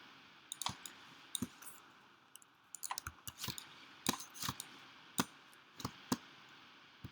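Sharp mouse clicks land in an irregular series while points are traced over a drawing in Illustrator, close and crisp, a dozen or so snaps spaced unevenly with quiet gaps between, no talking.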